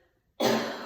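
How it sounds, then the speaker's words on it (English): A single short, harsh cough after running in cold air bursts out abruptly after a moment of near silence, close and fairly loud. "I'm going to cough a little bit"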